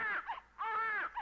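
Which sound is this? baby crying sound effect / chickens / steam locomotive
baby crying sound effect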